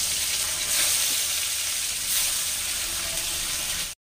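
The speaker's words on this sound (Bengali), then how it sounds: "ওই তেলের মধ্যে আমি আবার বাকি মাছগুলোকে ভেজে নেব।" Pabda fish frying in hot oil give a steady, close sizzle that runs evenly for about four seconds with small crackling bursts and then cuts off abruptly.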